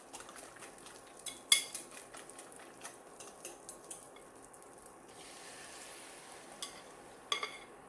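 Eggs frying in a pan, a soft steady sizzle under scattered sharp clinks and scrapes of utensils against the pan, loudest near the start.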